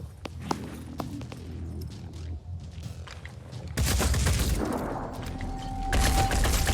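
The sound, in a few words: gunfire exchange in video game Phoenix Point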